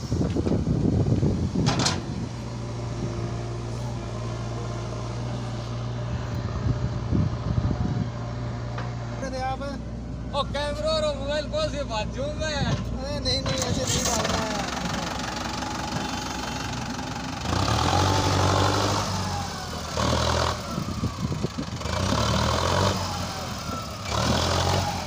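A Mahindra Arjun Novo 605 DI tractor engine labours under a fully loaded double-tyre trolley, a steady mid-pitched diesel rumble and knock with clanks and shifting mechanical noise over roughly twenty-five seconds.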